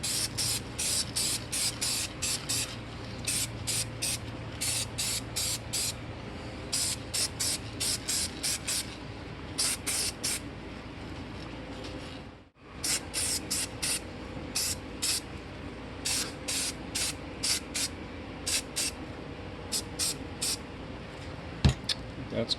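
Short hissing bursts from a spray paint can coating a Chevy A-body tachometer part repeat in quick rhythmic runs, with brief pauses between groups, close by and fairly loud.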